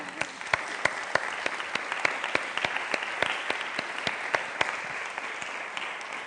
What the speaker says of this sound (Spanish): Es que me gustaría que lo aplaudiéramos, la verdad.